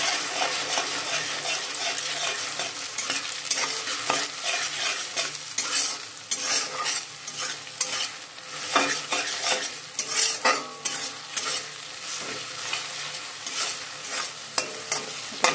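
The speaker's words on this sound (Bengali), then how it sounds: "দুটো ডিম ফ্রাই।" Two eggs fry in a pan, a steady crackling sizzle broken by frequent stirring and metal utensil clinks against the pan, close and continuous with no talking.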